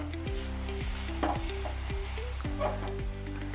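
Boiled milk and water being stirred into halwa in a pan over a very low flame: steady sizzling with repeated scraping stirs, close and continuous, with no voices.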